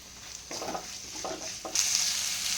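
Sliced onion drops into hot oil already holding cinnamon, cloves, cardamom and peppercorns for mutton chaps, giving a steady close sizzle with a few stirring scrapes that swells into louder frying near the end.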